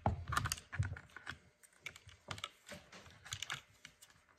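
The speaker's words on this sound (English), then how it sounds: "And now the carburetor itself, you just pull it off the studs." A carburetor is pulled off its mounting studs on a Stihl MS250 chainsaw, giving a close run of small irregular clicks, taps and light metal-and-plastic rattles with no talking.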